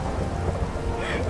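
Minecraft rain with thunder: steady, dense rainfall hiss at moderate level, with low rumbling underneath, continuous for the whole moment.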